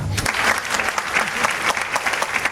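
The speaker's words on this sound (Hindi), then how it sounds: "गुलशन कुमार साहू, बजाओ ताली।" A seminar audience claps loudly in a brisk, uneven burst of applause for an attendee called up by name, the clapping close and full.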